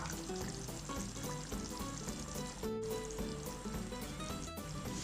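Fish pieces dropped into a simmering fish curry (meen kuzhambu) cooking in a clay pot, giving a steady, close bubbling sizzle that runs unbroken with no talking.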